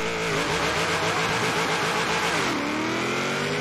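Pickup truck engines in the Forza Horizon 3 video game roar and rev hard at a race start, a dense, loud, continuous drone that rises in pitch through a gear change.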